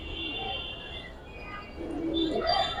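Giribaz and silver fancy pigeons coo nearby, with low throaty calls mixed with a few brighter chirps.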